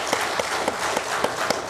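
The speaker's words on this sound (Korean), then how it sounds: "여러분, 박수 한번 하겠습니다" A church congregation applauds briefly, with rhythmic, fairly even claps sounding together at a steady pace in a reverberant room.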